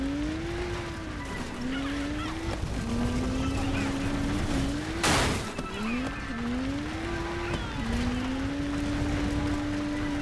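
A car driven in the video game Far Cry 3 revs continuously, its engine pitch climbing and dropping through repeated gear shifts, with a brief loud crash of noise midway.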